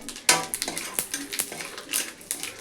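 Whole cumin seeds and whole garam masala hit hot white oil and ghee for Bengali prawn pulao, with a quick series of sharp metallic spoon clinks and scrapes against the pan over a faint sizzle.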